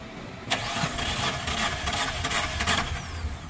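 A car engine cranks with a compression gauge attached, giving a near, continuous, rhythmic chugging that turns over repeatedly without voices.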